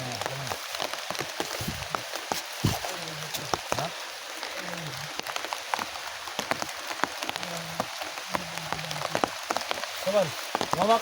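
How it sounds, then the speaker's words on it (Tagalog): Heavy rain pours steadily on a surface, a dense continuous hiss with irregular drip taps, while people talk over it. "sabi lakas ng ulan tol."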